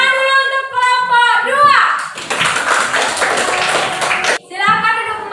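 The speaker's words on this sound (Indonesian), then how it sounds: "Tepuk tangan dulu untuk kelompok" A classroom group claps briefly in the middle, a short burst of hand-clapping between stretches of a teacher's voice, which is heard before and after.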